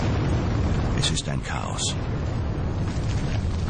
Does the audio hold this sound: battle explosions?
yes